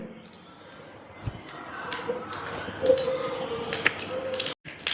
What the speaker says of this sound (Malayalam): കടുക് പൊട്ടി കയ്യാറായിട്ടുണ്ട്.